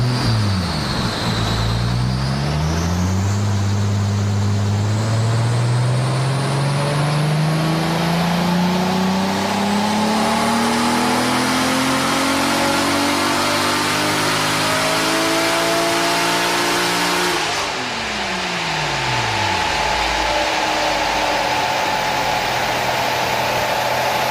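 A tuned Nissan R34 Skyline engine revs repeatedly on a dyno, strapped down, climbing and falling in pitch over a loud, sustained roar, heard close with no talking.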